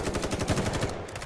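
Sustained rapid automatic gunfire in the survival shooter video game The Day Before, a loud, evenly spaced string of shots filling the short stretch with no talk over it.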